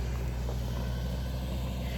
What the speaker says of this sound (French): le camion du parc passe à travers, là, ça va faire un peu de bruit